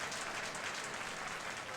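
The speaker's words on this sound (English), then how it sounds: "A subtle clap from the crowd." A wrestling crowd gives a light, brief smattering of applause, a thin, even patter of claps heard at a distance.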